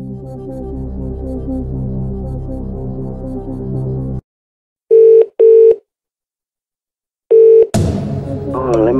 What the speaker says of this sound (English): you've decided to use your phone a friend, Lifeline. Choose the friend you'd like to call